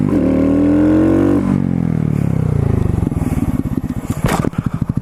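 Motorcycle dropping its rear wheel and rolling forward after a stoppie as the front brake is released, engine idling then chugging in a rapid, loud, close pulsing rhythm with some clatter.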